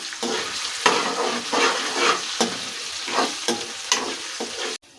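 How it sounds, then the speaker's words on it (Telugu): Ginger garlic paste sizzles in hot oil in a pan, broken by repeated scraping strokes of a stirring spoon that come in uneven bursts close by. "కొద్దిగా అల్లం వెల్లుల్లి పేస్ట్ వేసుకొని పచ్చివాసన పోయేంత వరకు వేసుకుందామండి"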